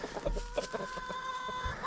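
Brahma chickens clucking close by in a short burst of repeated clucks and squawks, with a steady high whine running underneath throughout.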